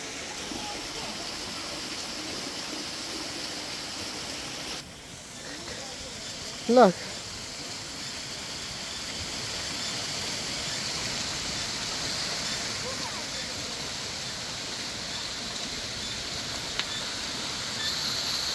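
A mountain stream by a monastery in Junbesi, Solukhumbu, rushes steadily as it turns a water-driven prayer wheel, a constant close wash of flowing water with a brief voice near the middle.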